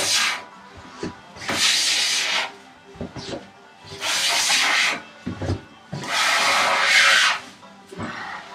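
Hand plane taking full-length shavings off a workbench top during flattening, three long loud hissing strokes with short clunks and knocks between passes, no talking.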